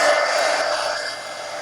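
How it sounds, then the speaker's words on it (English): Heat gun blowing hot air over wet mixed media paint on a magazine journal page: a steady, close, broadband whoosh that eases slightly in loudness, with no talk. "All right, heat gun."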